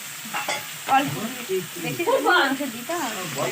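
Duck masala with green chilies sizzles in a pan, stirred and scraped in short bursts while the spices fry, close and moderately loud, with a voice talking over it.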